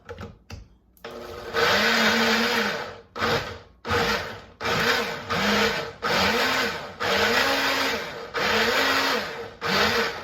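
A blender whirs through a strawberry, banana and kale smoothie in repeated loud bursts, the motor pitch rising and falling with each pulse and short pauses between them, close and alone.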